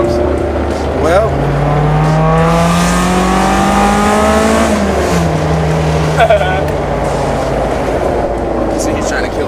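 A Honda S2000 sports car is driven hard into a corner, its engine revving high and loud inside the cabin, the pitch climbing, then dropping as the driver lifts and shifts, with continuous road and tire roar underneath.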